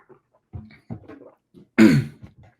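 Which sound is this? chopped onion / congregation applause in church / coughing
coughing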